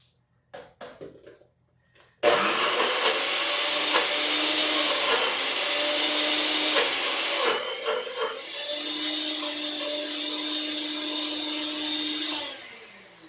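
After a few brief clicks and knocks, a blender roars to life blending cauliflower into a creamy mash, running loudly with a high whine that shifts in pitch as the contents churn, then winds down at the end.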